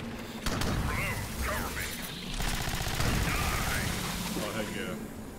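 Shotgun blasts and dense gunfire from the sci-fi shooter Alien Swarm, loud and continuous with mechanical clatter and explosive bursts, under excited talk from players.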